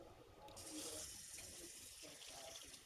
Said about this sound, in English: Rinse this lid off